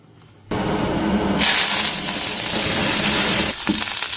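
Freshly picked curry leaves hit hot oil with a sudden burst of loud, close sizzling. The spattering hiss swells after a moment and then holds steady, with no talk over it.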